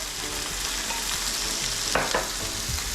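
Four large onions with salt sizzle steadily in a pan while a spoon stirs them, with a couple of louder scraping strokes near the end; close and continuous, no talking.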